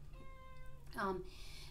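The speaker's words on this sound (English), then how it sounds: "That is my cat" A pet cat gives one short, fairly close meow, heard alone over a quiet room's low hum.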